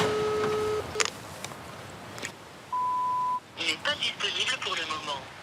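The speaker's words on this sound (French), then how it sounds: "Le médecin tente le téléphone." A doctor's telephone call attempt: electronic tones and beeps ring out in short steady bursts, broken by pauses, with a voice speaking over the later part.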